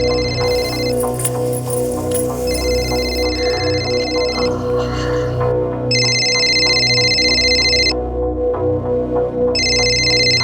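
A telephone rings in bursts of electronic tones, alternating with gaps, over steady background ambience in a home during a Mumbai crime drama scene.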